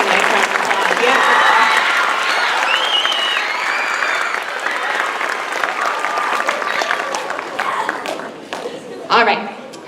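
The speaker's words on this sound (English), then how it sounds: "let's give those four a nice round of applause" A school choir concert audience claps for four long-time choir members, a loud burst of applause that gradually thins out, with voices and shuffling footsteps near the end.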